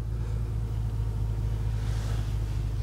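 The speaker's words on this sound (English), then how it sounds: "Nice little rumble as the car adjusts to the settings on this particular key." Bentley Continental Supersports engine idling just after ignition, a steady, close, deep low rumble holding throughout with no talk.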